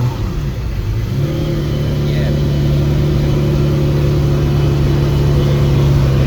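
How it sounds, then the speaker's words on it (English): A Ferrari Testarossa V12 revs on a street in Milan, a loud, steady engine roar that holds and climbs slightly in pitch throughout, close by and with no talk over it. "And we also get to hear the Testarossa."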